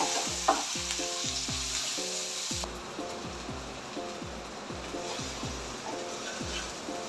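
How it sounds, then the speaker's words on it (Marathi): Onion and chilli fry with salt in a pan for a catfish curry, a steady soft sizzle with repeated scraping stirs in an even rhythm, close and moderately quiet, with no talking. "कांदा मिरची टाकली की आपण थोडंसं मीठ टाकू, थोडंसं होऊ देऊ."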